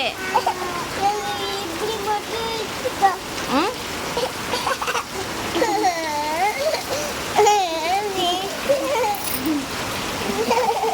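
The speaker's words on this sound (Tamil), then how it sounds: "மழை பயங்கரமா பெய்யுது." Heavy rain pours down as a steady, splashing hiss, with people talking over it throughout.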